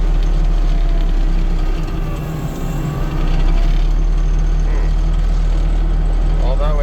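AGT flail mower running at about 2,000 RPM, a loud steady low engine drone and rumble that stays constant throughout, with a voice heard faintly under the machine noise.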